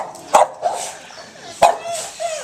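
Two sharp barks from a fearful dog, spaced about a second apart, each followed by softer whimpering yips; close and fairly loud.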